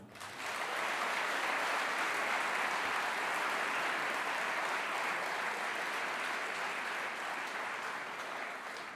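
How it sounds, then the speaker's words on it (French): An audience at the seventh game-shop awards ceremony (GBL and ALF prizes) applauds the nominees, a soft, distant, uniform roar of clapping that swells in quickly and holds steady for about eight seconds. "N'hésitez pas à les applaudir également"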